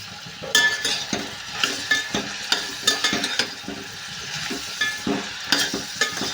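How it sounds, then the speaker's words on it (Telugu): Onions and green chillies sizzle in a pan for Andhra-style egg bhurji, turned over and over with a spatula. Rhythmic scraping strokes ride a steady frying hiss, close and clear, with no talking. "ఈ ఉల్లిపాయలు వేగేటట్టు అయితే ఫ్రై చేసుకోవాలి. ఇలానే ఫ్రై చేసుకుంటూ ఉండాలి, ఇంకా వేగాలి."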